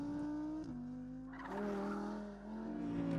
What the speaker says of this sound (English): trying out the new Audi R8 on a racetrack in Portugal